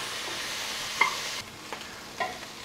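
Chorizo and grill-style sausages fry in a pan, a steady soft sizzle with a few brief clicks and stirring knocks over it, close and moderately quiet.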